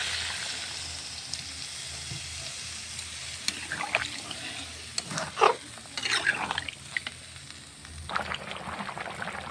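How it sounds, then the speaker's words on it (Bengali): Chicken curry broth, cooked with goat fat and hot water, bubbles in a pan with a steady low simmering hiss and scattered pops and splutters that grow busier midway, with no voices. "মাংসের ঝোল সুন্দরভাবে ফুটছে"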